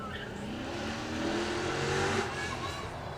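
A more powerful Corvette sports car revs its engine during a supercar demonstration at Beaulieu, a loud, steady engine roar that swells slightly midway, with faint voices in the background.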